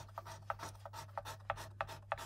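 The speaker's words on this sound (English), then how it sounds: "I use a little sanding block with some 320 or 220 paper on it" Rhythmic rasping strokes of a sanding block with 220 or 320 grit paper on nitrocellulose lacquer, about seven short scrapes at a steady pace, close and fairly quiet over a low hum.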